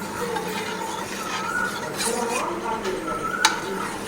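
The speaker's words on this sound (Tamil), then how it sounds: "ஒரு நிமிஷத்துக்கு ஒரு தடவை நம்ம கையெடுத்து கிண்டிக்கலாம்" Thickening koozh porridge is stirred in a pot, a dense bubbling hiss with soft scraping strokes of the spoon and one sharper clink near the end.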